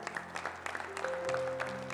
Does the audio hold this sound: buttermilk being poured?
no